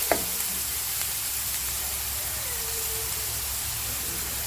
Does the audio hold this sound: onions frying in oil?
yes